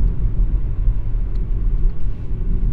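Low steady rumble of a Hyundai Solaris 1.6 (123 hp) with automatic gearbox cruising in sixth gear at just over 60 km/h, heard from inside as continuous road and engine drone with no talk.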